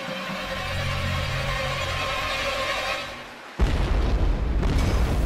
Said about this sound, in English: The bomb's explosion splits the side of one of the tanks